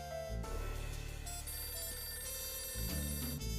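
A telephone rings in the video game Last Window, a repeating electronic trill with a low buzzing pulse that stays fairly loud and steady for several seconds with no talking over it.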